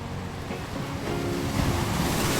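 Stormy ocean surf crashes and rolls continuously, with a steady, loud wash of waves and gusting wind rumbling underneath and growing slightly stronger toward the end.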